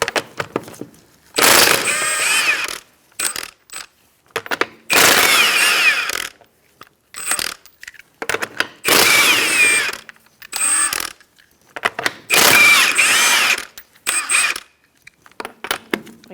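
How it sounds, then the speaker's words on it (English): A ratchet wrench with a 21mm socket loosens lug nuts on a 2004-2009 Mazda 3, its clicking pawl sounding in several separate bursts of rapid ratcheting with short pauses between, close and fairly loud. "Using a 21mm socket, we're going to take off our lug nuts"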